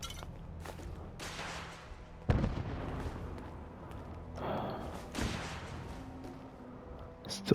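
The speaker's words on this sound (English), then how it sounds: "Still some bombs going off." Bombs going off in the video game Fallout 4, a few scattered muffled booms at a distance, one sharper blast standing out against a quiet background.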